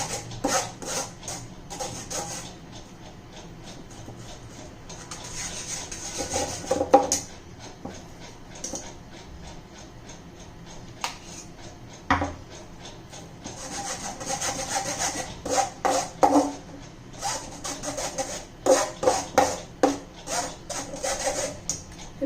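A spoon scrapes and presses raw green mango pulp through a sieve for chilled kairi panha. The scraping and rubbing strokes come close and repeat irregularly, growing denser and more rhythmic toward the end.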